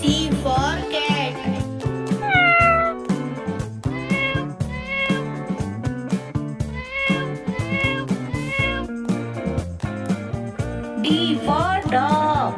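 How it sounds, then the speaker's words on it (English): Repeated cat meows, several drawn-out calls in a row, over a busy musical backing with a child-like voice in places. "C for cat."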